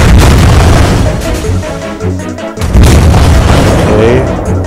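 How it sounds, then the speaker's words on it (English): Torpedo launches and heavy booming impacts from the mobile naval battle game Azur Lane form a dense, loud, continuous wash of explosions with layered game effects and a brief dip midway. "Tap the button below to unleash a bar gauge for torpedoes."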